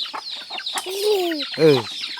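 A chicken clucks and calls in a rural hill-forest setting, a few short clucks followed by two drawn-out, rising-and-falling squawks, fairly close and clear with no talking.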